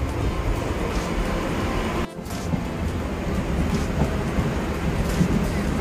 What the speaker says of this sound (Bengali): তাহলে 5:39-এ দুবরাজপুর স্টেশন থেকে আমাদের ট্রেন ছেড়ে দিল